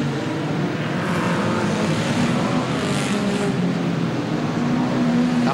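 Saloon stock cars racing at Wimbledon in 1983 make a steady, dense roar of several engines at once, loud and continuous with no pauses.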